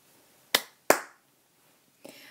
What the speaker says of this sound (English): Give yourself 2 claps.